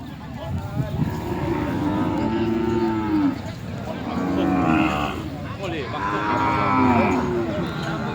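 Cattle at a Thai cattle market low and moo repeatedly, several long drawn-out calls overlapping, close and fairly loud, with people talking in the background.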